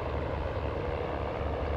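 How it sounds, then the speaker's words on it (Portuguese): A crop-spraying airplane drones steadily at close range, a continuous propeller and engine roar that holds level without talk. "Olha o avião."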